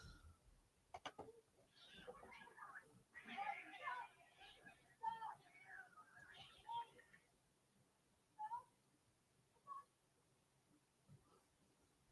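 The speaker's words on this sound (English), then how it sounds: "Cats are scrapping." Cats scrapping, with wavering yowls and meow-like cries rising and falling in a few close, overlapping bursts over a faint, noisy background.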